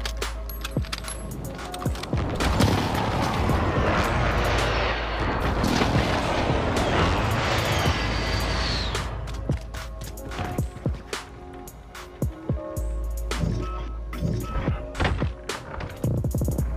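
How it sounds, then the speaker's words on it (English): A precision airstrike in an online shooter video game sets off a long stretch of loud, dense rumbling explosions and crashes. Sharp scattered impacts follow as the barrage thins out, with game effects in the background. "Allied precision airstrike incoming."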